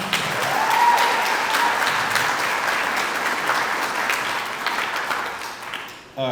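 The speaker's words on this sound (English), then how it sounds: "round of applause for First Security, please" Sustained audience applause fills a room at the Love in the Soup 2025 charity fundraiser, steady and fairly loud with voices mixed in, fading briefly near the end.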